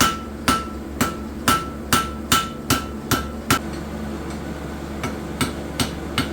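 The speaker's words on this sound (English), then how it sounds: "Sorry for the excessive hammering" Hot iron bar hammered on an anvil while forging nails: a run of sharp ringing metallic strikes at a steady, roughly half-second rhythm, close and clear, pausing briefly before a few more blows.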